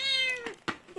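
Cat meowing up close, one clear drawn-out meow followed by a short rustle and the start of another brief meow.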